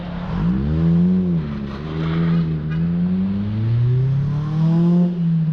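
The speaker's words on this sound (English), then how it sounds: "that is a full car on the bike path" A full-size car driving along a paved bike path on the East Coast Greenway, its engine loud and close, pitch rising and swelling as it accelerates past, with no talking.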